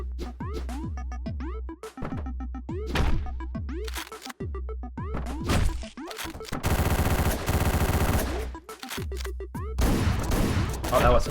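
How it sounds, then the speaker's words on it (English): Gunfire in the top-down action game Hotline Miami, with a dense burst of loud blasts in the middle amid rapid game hits and crashes, and a voice talking over parts of it. "Oh, that was a shotgun."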